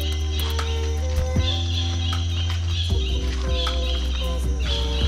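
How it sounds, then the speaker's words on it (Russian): Birds call loudly in a flooded mangrove forest park on Ko Chang at low tide, sharp repeated chirps and cries ringing out over a steady low hum, with no speech. "Птицы какие-то там орут громко"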